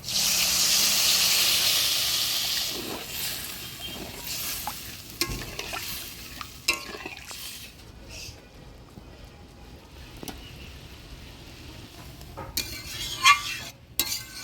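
Water poured into a pan of poppy seed paste with sugar and cashews hisses in a strong burst, then fades to a low simmer with intermittent stirring scrapes and clinks of a spoon on the pan.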